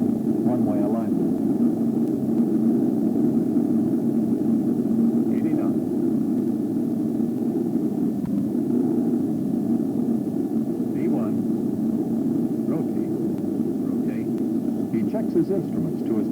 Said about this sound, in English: During the takeoff roll, our captain uses ground reference cues to maintain runway alignment